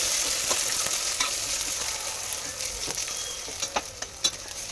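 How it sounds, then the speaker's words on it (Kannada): A spoon stirs a handful of mint into mushroom biryani in a hot pan, a soft sizzle under scraping and clinking strokes that grow sharper toward the end, fairly quiet and with no talking. "ಮತ್ತು 1 ಕೈ ಹಿಡಿಯಷ್ಟು ಪುದೀನ ಹಾಕೊಂಡು ಮಿಕ್ಸ್ ಮಾಡಿ."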